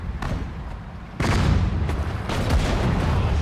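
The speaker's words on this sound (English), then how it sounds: "Artillery hitting hard." Artillery shells bursting in the World War II strategy game Sudden Strike 4 on a Soviet ice road defense, heavy rumbling booms rolling one after another with a dense low roar between impacts, no talking.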